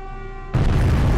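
An explosion in the naval war game Victory at Sea: Pacific, a sudden loud booming burst that cuts in after a brief humming tone and rumbles on heavily to the end.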